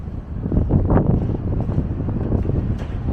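Strong wind buffeting the microphone beside city canals, a loud continuous low roar with gusting surges and no voices.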